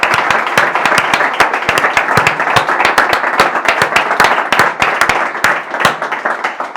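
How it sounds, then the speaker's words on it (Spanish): A live audience at an investing and behavioral economics talk gives the speaker loud, sustained applause, many hands clapping close and continuously. "yo creo que se merece un reconocimiento en forma de aplauso"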